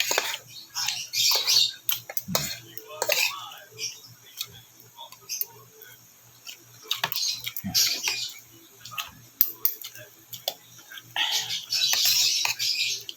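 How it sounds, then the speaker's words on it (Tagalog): Birds chirp and squawk outdoors in short scattered bursts, fairly close, with ticking sounds and brief bits of talk in between. "Ingin ng mga ibon."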